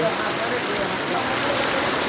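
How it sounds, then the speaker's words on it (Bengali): Heavy rain pouring down at a Rohingya refugee camp, a dense, loud, continuous hiss of falling water with no breaks, heard close and alone. "প্রচুর বৃষ্টি হচ্ছে ক্যাম্পে প্রচুর পরিমাণ বৃষ্টি হচ্ছে"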